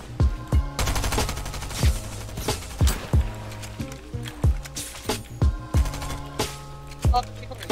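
Video game gunfire: sharp, punchy shots in quick pairs and short bursts, evenly loud and close, with brief gaps between volleys and a faint voice in the background.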